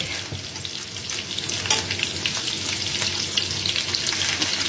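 Many fish laid side by side sizzle in a large pan, a steady close crackle of hot oil with soft stirring and no talk.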